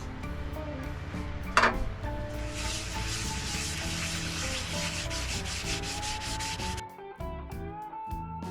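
Wood spinning on a lathe is sanded with sanding paste, a steady, loud rubbing hiss with a brief sharp knock near the start and a shift in tone toward the end.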